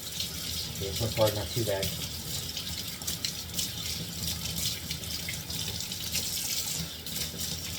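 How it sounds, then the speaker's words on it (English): Tap water runs steadily into a sink while a Japanese Mikawa Nagura stone soaks, a continuous close hiss throughout, with someone speaking briefly over it. "Hopefully you guys can hear me over the running water."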